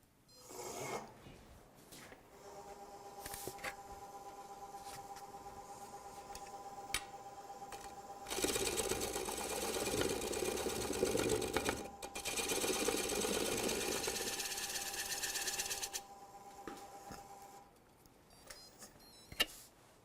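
Wood lathe turning away the leftover stub tenon on a bowl foot, with the tailstock slid aside: a steady whirring rasp of the cutting tool against spinning wood, growing louder and harsher in the middle, with a few light ticks near the end.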